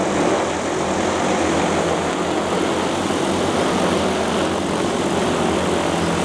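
A DJI FlyCart 30 delivery drone flying overhead, its propellers making a loud, continuous, dense whirring drone that stays steady throughout with no voices.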